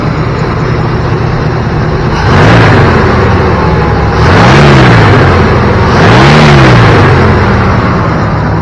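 The engine of a 1989 Chevrolet K5, just repaired after running rough and stumbling off idle, idles loudly and steadily, rising three times in short revs before settling back.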